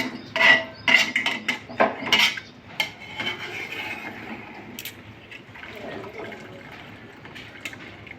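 Rice being spooned into a chicken dum biryani pot, with a burst of sharp metal spoon-and-pot clinks and scrapes up front, then softer stirring and shuffling sounds settling into quiet handling.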